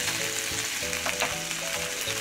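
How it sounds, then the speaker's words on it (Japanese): Ground meat for bolognese sears in a hot frying pan, browning like steak, giving a steady close crackling sizzle with occasional louder pops, no talking. "ステーキを焼くような感じで焼いてください、ね、両面をじっくり焼いていきます。"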